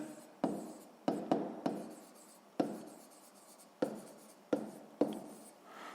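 Pen writing by hand on paper while working a sixth-grade maths exercise, close and quiet, with a series of short scratchy strokes in uneven bursts and pauses, no voices.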